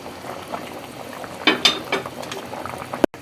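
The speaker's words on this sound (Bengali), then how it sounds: "তরকারিটা বলক উঠেছে" Thick fish curry with rohu, potatoes and drumsticks bubbling and popping steadily in a pot, with a few louder bursts of bubbles near the middle.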